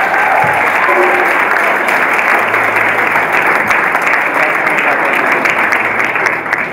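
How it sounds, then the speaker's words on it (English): Loud, sustained applause fills a hall at a high school fine arts award ceremony, a dense wash of clapping from a large audience lasting throughout. "One more round of applause for our fine arts students."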